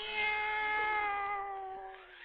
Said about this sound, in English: And now let us join old Nancy and her black cat, Satan.